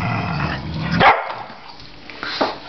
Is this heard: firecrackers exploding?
no